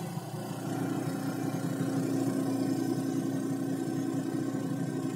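A rusty, failing car air-conditioning compressor vibrating hard, a steady low droning hum with a constant mechanical tone, even and unbroken throughout.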